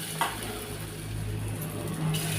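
Taro fritters frying in hot oil in a wok, giving a steady, continuous sizzle at moderate volume with no talking.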